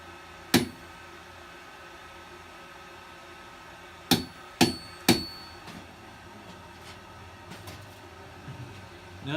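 Four sharp metallic strikes of a hammer on a cheap chisel cutting metal on an anvil, one blow then a tight group of three, each ringing briefly in a quiet workshop.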